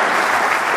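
Audience applause at a rugby award ceremony for a Midi Olympique Oscar winner, a brief, dense, even wash of clapping heard loud and close.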